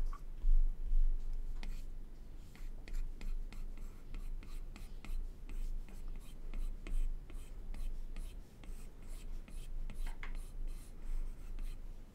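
Pencil strokes on a drawing tablet while painting a cute dog in Procreate, a soft steady scratching and tapping as the stylus is lifted and set down again and again, quiet and close, with no speech.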